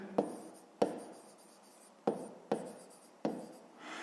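A pen writes in a notebook during a fifth-grade math exercise, giving five sharp scratchy strokes, each trailing off into softer scraping, close and fairly quiet with no voices.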